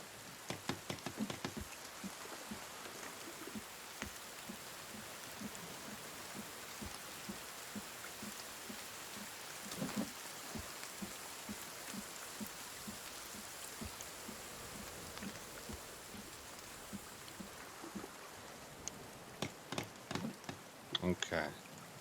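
Steady rain in the survival game The Forest, a soft continuous hiss of drops pattering on surfaces with a few sharper taps, heard alone at moderate distance.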